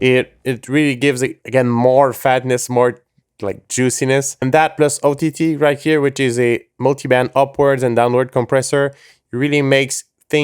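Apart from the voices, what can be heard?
No everyday noise stands out behind the speech.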